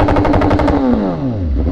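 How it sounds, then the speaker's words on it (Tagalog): Exhaust pops and bangs from a BMW S1000R motorcycle, a quick loud burst of crackling shots followed by a falling engine note as the throttle closes, close up. "pumuputok siya pag binibitawan yung gas"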